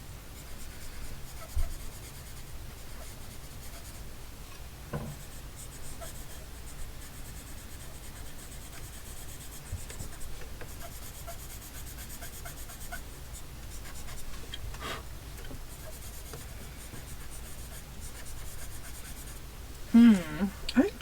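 A pencil or charcoal scratches and rubs across paper in steady, soft strokes close by, with a couple of louder scuffs near the end.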